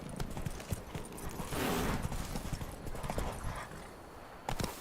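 The horse Roach galloping in The Witcher 3, rapid clip-clop hoofbeats in a running rhythm with a brief snort or whinny, moderately close over game ambience.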